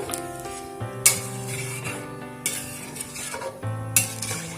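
Potato curry is stirred in a pot after water goes in, the spoon scraping and clinking against the metal in a few distinct strokes, with steady bubbling and tonal hum beneath.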